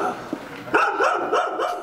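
Dogs bark in an old residential neighbourhood of Samyang-dong, Gangbuk-gu, Seoul, giving a short run of close, yelping barks that rise and fall quickly, one after another.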